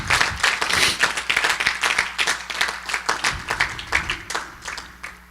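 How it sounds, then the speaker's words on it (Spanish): A church congregation claps loudly and steadily in praise of the Lord, with dense applause and a few voices or shouts mixed in. "Denle un aplauso fuerte al Señor."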